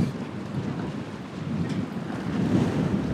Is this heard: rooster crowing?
no